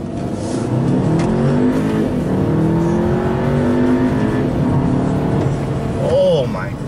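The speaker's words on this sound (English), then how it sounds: "let's do a couple gear pull here." A 2015 Audi A3 Quattro pulls hard through its gears, the engine note rising steadily and stepping at each shift. Loud and close from inside the car, with a voice talking over it briefly near the end.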